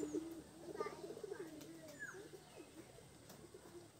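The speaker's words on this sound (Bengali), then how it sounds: "এটা হচ্ছে টোটালি আমাদের কবুতরের ঘর ভেতরের অবস্থা" Pigeons coo softly inside a home pigeon house, overlapping throaty calls in a faint, quiet room with no talking.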